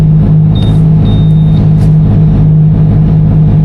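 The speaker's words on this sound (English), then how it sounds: "We're in a drift car, baby!" Drift car engine in Ebisu, Japan, running loud and close, with a steady low rumble and a sustained drone held throughout, with only slight shifts in pitch.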